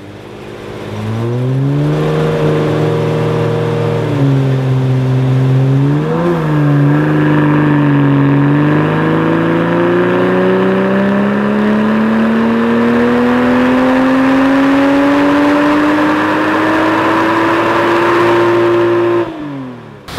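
A 2020 Toyota Supra running on a dyno after a Bootmod3 Stage 1 reflash revs through its gears, the engine note dipping and climbing in stages before a long, steady rising pull, loud and close, then cutting off abruptly.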